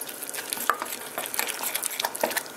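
Cassava arepa dough is stirred and mixed by hand in a bowl, giving soft, continuous wet scraping and squelching strokes up close, with no talking.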